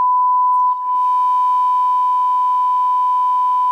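A censor bleep covers speech: one loud, steady pure tone held for nearly four seconds, with a brief dip near the start, and nothing else audible over it.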